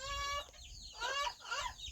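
Bantam and jungle chickens clucking nearby on a rural Thai farm, a few short bursts of clucks and squawks with brief pauses between them.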